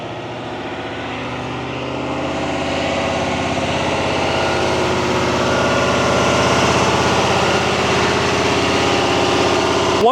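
A Duramax L5P diesel engine runs a forced DPF regeneration, its steady idle hum slowly climbing in speed and loudness over several seconds and then holding a high, even drone with no talking.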